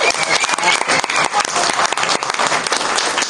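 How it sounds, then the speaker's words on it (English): Audience clapping for Michael Whalen's art at a book tour event in Huntington Beach, a dense, steady round of applause from a seated crowd that holds for the full stretch. "You can clap, though, for Michael Whalen's art."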